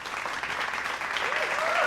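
Audience applause rings out in a brief, dense burst of clapping that stays steady and fairly close, with a faint whistle or voice rising near the end.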